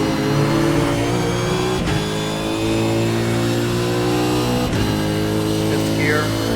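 A race car at Road America accelerates hard through the gears, with a loud, sustained engine roar and two brief dips at the shifts; the engine stays in the foreground throughout.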